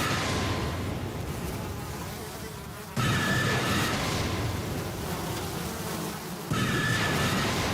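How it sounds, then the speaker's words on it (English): Film sound effect of a dense swarm of flies buzzing, a loud continuous insect drone that swells and cuts abruptly at a few points, with no voices. "my God will send swarms of flies upon you and your people!"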